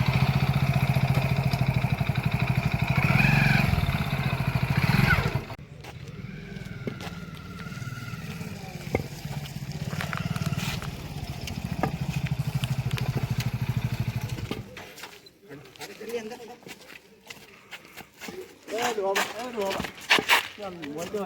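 A motorcycle engine idling and running close by, a steady rumble that drops away midway, with people talking over it throughout.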